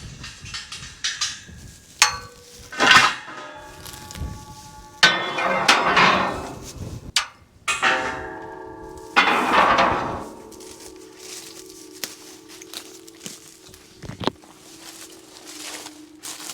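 Bolts are removed from a harvester bag bar: metallic clanks, bangs and ringing hits come in irregular bursts, some with a lingering metallic ring, close up outdoors.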